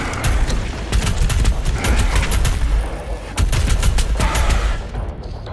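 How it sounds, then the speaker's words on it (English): Dense automatic and rapid gunfire fills Doom Eternal combat, with continuous volleys and sharp cracks in bursts, loud and close, amid a heavy low rumble and no talk. "Who's shooting me?"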